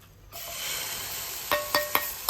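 Dosa batter hits a hot pan with an abrupt, loud sizzle that holds as a steady close hiss, followed by a few sharp scraping or tapping clicks of a utensil against the pan.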